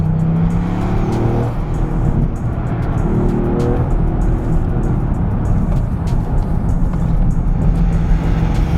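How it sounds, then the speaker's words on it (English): A Toyota GR Yaris on Michelin Pilot Sport Cup tyres is driven hard through corners, its engine roaring loudly and continuously from close inside the cabin with rising and falling revs. "this car really does rip your face off when you send it into a corner"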